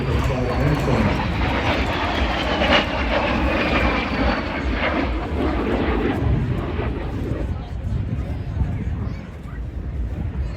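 A de Havilland Vampire jet in Royal Norwegian Air Force markings flies at an air show in Ayr, producing a sustained jet roar with a sweeping whine as it passes, while a commentator talks over it.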